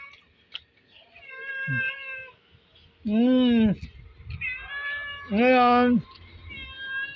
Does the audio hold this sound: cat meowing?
yes